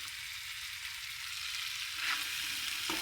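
Food frying in oil in a pan gives a continuous soft sizzling hiss that holds steady throughout. It is faint and close, with no voices.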